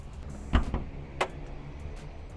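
A Suzuki Vitara's hood is released and lifted in two or three quick close mechanical clicks and thunks, followed by a near-quiet pause.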